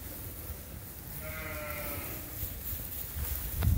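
Sheep and lambs in a straw-bedded pen give a single faint, wavering bleat that is half buried in steady barn hiss and low rumble.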